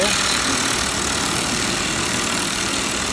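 A motorcycle with Max Torque Cans exhaust idles steadily, a constant low rumbling exhaust note that stays even throughout, with faint background noise.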